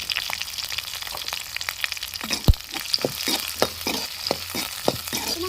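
Onion, garlic and green chilli fry in hot oil, a soft continuous sizzle broken by repeated scraping stirs of a spoon, heard close and without talk.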